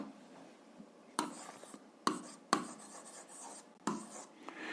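Pen writing by hand on paper while working an algebra exercise, a few short scratchy strokes with quiet pauses between, close and faint.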